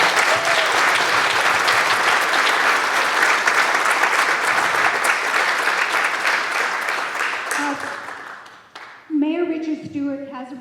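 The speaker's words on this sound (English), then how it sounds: "great round of applause for all of them" Sustained audience applause at a community sports heroes celebration in Coquitlam, steady and full for about eight seconds before tapering off, with a voice speaking at the end.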